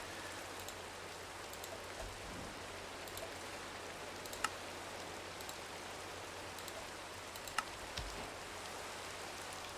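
Steady rain falls in the Minecraft Enigmatica 9 modpack world, a continuous soft hiss of drops with occasional brighter ticks, faint and even throughout with no voices.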